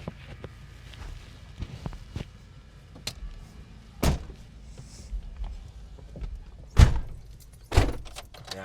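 A car's rear hatch is opened, giving several distinct thumps and clunks amid quieter handling noises, moderately close.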